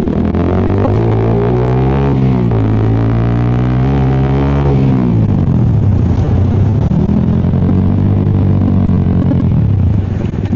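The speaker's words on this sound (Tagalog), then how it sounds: "Naririnig kaya ng mic yung ano, yung ungol ng motor?" Motorcycle engine revving hard and close, pitch climbing and falling through several rises and drops, loud and continuous, with no talking over it.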